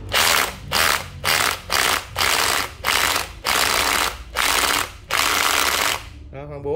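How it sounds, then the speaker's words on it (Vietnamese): A Japanese cordless drill in hammer mode fires off about nine loud bursts of rapid rattling impacts, each roughly half a second long with short gaps between, up close and with no talking. "Đó, khoan búa nha các bạn."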